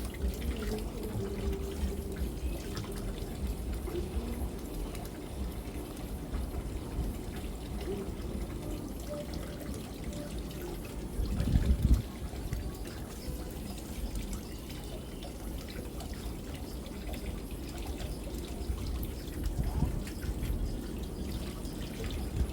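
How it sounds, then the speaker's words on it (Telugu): Raw prawns rinsed under a running kitchen tap, a steady close stream of water hissing and splattering for a long stretch, with a brief louder clatter midway. "నాకు ఈ రొయ్యలు ఎంత కడిగినా తృప్తిగా ఉండదు,"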